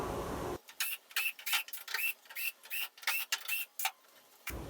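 A power screwdriver backing screws out of a Toyota pickup tailgate panel, a close run of short whirring bursts with sharp rising pitch and brief gaps between them, no talking.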